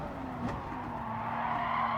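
Toyota GR Supra Gr.3 race car in Gran Turismo at Interlagos, tires squealing through a corner as they wear, a sustained squeal layered over steady engine drone, continuous and fairly loud.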